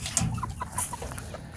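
A rooster clucks in short, soft bursts close by, a few quick clucks scattered over a brief stretch with some rustling.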